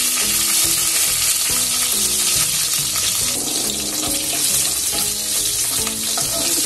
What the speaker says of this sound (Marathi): मी इथे तेल घातले, तेल तापलंय, इथे मी जिरं घालते